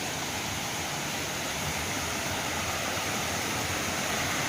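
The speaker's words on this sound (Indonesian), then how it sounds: "ini ya air terjunnya ya." Kedung Kepyur waterfall in Pacet, Mojokerto, East Java roars as a steady, dense rush of falling water, loud and continuous, with no other sounds standing out.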